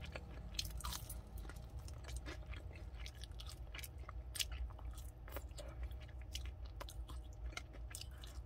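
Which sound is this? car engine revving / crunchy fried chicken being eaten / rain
crunchy fried chicken being eaten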